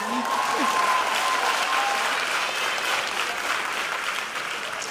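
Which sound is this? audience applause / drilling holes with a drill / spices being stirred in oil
audience applause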